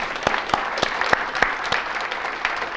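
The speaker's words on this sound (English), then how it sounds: "everyone give a round of applause for Emily for helping" A modest group in a talk or workshop setting gives brief, moderately quiet applause, with distinct individual claps popping out of the steady patter.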